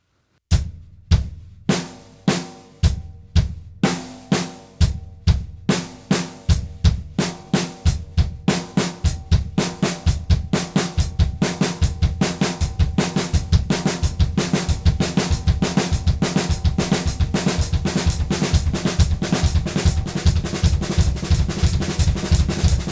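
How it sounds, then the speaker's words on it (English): Drum kit pattern of bass drum and hi-hat struck together, starting as slow, evenly spaced hits and speeding into a dense, steady stream of strokes, played alone without talk. "I'm going to start with my bass drum, but we'll put the hi-hat with it,"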